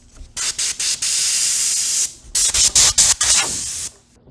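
An airbrush hisses loudly in short bursts, then blows a long steady spray at full force before sputtering again in quick pulses.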